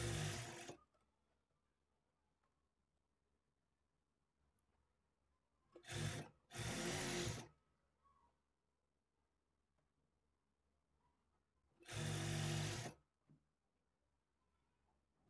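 A sewing machine stitching thread piping onto cloth, three loud, close bursts of rapid whirring separated by long quiet pauses.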